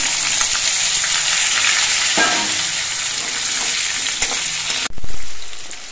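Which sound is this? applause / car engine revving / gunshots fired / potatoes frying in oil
potatoes frying in oil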